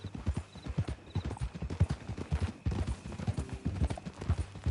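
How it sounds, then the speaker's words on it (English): Horse hooves clip-clopping in a steady walking rhythm, close and distinct, with a faint whinny partway through and some quiet background sound. "That a new horse?"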